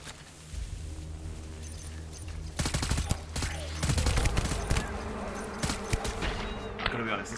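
Machine gun fire in the video game Death Stranding: Director's Cut, rapid bursts of automatic shots over a droning background hum, close and loud with dense repeated cracks.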